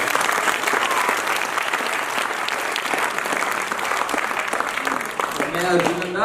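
Warm, sustained clapping from a theatre audience after a stage play, many hands blending into a continuous roar with scattered sharper claps, and a voice briefly rising near the end.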